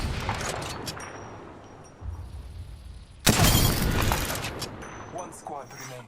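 Gunfire from an Apex Legends match, with bursts of rapid shots and a loud, dense volley midway that crackles on for several seconds amid game noise.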